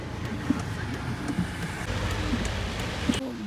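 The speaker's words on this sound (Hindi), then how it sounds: "बारिश जो है रुकने का नाम नहीं ले रही है" Rain falls steadily near Kufri in the Shimla hills, a dense continuous patter with occasional louder drops, under a low rumble that may be passing traffic; no clear talking.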